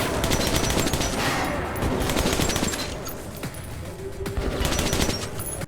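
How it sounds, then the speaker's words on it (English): A suppressed AK rifle fires in Metro 2033, sounding as dense, continuous bursts of thin, weak-sounding shots that carry on through the whole stretch with only brief pauses, no voices. "The AK just sounds way too weak."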